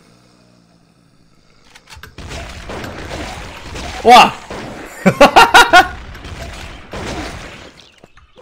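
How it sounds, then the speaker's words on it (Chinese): Rapid bursts of gunfire from zombies in the mobile game Doomsday Hope, several short loud volleys clustered together, mixed with excited talk and exclamations. "僵尸会开枪？"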